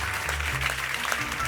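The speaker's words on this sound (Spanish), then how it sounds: "Por favor, un aplauso para el señor Girauta y para todos los que han hecho posible este acto." An audience in a hall applauds at a public talk event on Europe, a steady, close wash of clapping with a faint low hum underneath.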